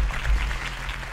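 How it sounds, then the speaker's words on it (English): A crowd claps steadily at a campaign rally in the Batman Telltale game, a dense wash of applause at moderate volume. "could have heard that applause"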